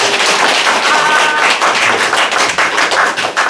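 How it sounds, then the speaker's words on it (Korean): A church congregation at a Sunday worship service bursts into dense, sustained applause, a steady wash of many hands clapping close and loud throughout. "그래서 의전도에 우리 어머님들을 위해서 박수 한번 드리겠습니다"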